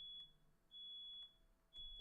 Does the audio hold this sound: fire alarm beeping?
yes